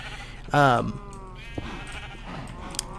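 A single loud sheep bleat with a wavering, harmonic tone sounds up close in Minecraft, followed by quieter background game sounds.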